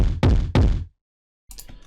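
Distorted kick drum crushed with Camel Crusher's Annihilate preset, two heavy saturated thumps in quick succession, loud and close, followed by silence and a quieter distorted tail returning near the end.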